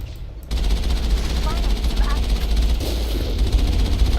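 Sustained rapid gunfire in Mass Effect aimed at a hovering dropship, a loud continuous rattling barrage with steady low rumble throughout.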